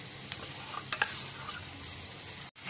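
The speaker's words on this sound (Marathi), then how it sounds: "आता मी हे दुसरं वाटण ॲड करत आहे. त्यामध्ये टोमॅटो, कोथिंबीर आणि जिरं याची पेस्ट आहे." A paste of tomato, coriander and cumin fries in oil for Vidarbha-style stuffed brinjal, a steady near sizzle with a few sharp spatters and stirring, cut by a brief dropout near the end.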